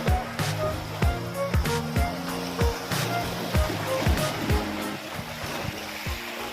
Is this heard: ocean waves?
yes